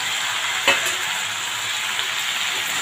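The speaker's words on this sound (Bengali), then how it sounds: "চিকেনটা এখন ভাজা হচ্ছে" Chicken pieces fry in a pan alongside prawns, giving a steady sizzling hiss throughout, with one short clattering knock of a utensil near the start; no voices.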